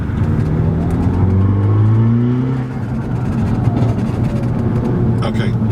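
Audi S3 with an APR Stage 3 big turbo kit accelerating hard from 20 mph on a UK road, a loud sustained engine drone with rising harmonics heard from inside the car, easing near the end.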